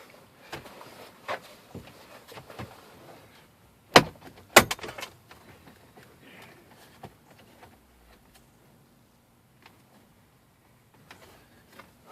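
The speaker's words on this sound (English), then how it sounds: "try to work this cover off, and it's just attached with some clips." Plastic dashboard cover on a Honda Element being pried off its clips, giving a series of scattered cracks and snaps, with two sharp loud pops near the middle and quieter clicks and rustling afterward.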